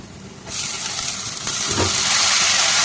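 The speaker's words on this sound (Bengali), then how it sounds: "এখন দিয়ে দিচ্ছি শাক" Jute leaf greens hit hot mustard oil that already holds black cumin, fried onion and green chilli, bursting into a loud, close hiss that swells and keeps sizzling steadily.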